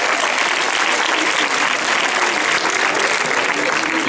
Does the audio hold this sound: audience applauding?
yes